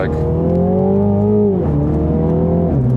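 A Mini John Cooper Works GP in S shifting mode accelerates hard, its engine note climbing steadily and loud, then dropping briefly at two quick upshifts before rising again, close and continuous with no talk.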